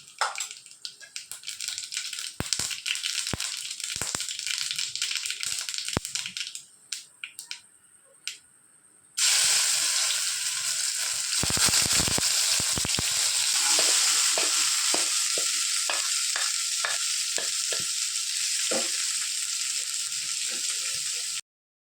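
Mustard seeds pop and crackle in a hot pan on a stove for a beans stir-fry. Sharp snaps sound at first, then a loud, steady sizzle starts with dense spluttering pops and continues to the end.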